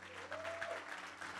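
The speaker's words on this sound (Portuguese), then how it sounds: "Você pode aplaudir o Senhor por isso?" A church congregation applauds during a worship service: a brief, steady wash of clapping at moderate distance, fairly soft, with a faint sustained voice or tone running underneath.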